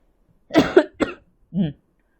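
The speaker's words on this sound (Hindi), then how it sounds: "खांसी भी बहुत देर से रोक के बैठनी पड़ रही है मुझे" Three short bursts of coughing, close and fairly loud, with brief pauses between them and quiet otherwise.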